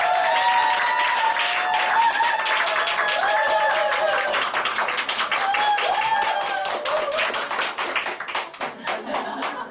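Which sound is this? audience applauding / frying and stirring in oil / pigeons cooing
audience applauding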